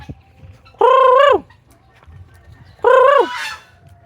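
Two loud, drawn-out honking calls from free-range chickens roaming close by, separated by a short pause, over faint background clucking and rustle.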